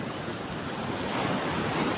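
Strong ocean waves surge onto the rocky shore at Villa Norte on Alabat, Quezon, a steady loud wash of surf mixed with wind buffeting the microphone, rising slightly toward the end with no voices.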